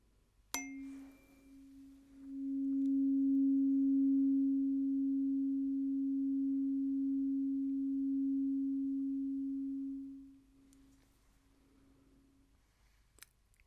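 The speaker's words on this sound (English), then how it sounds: "we'll start with the highest frequency of the tuning forks" The highest-pitched tuning fork in a set rings out as one pure, steady tone that swells in, holds for about eight seconds and fades away, clear and close against near silence.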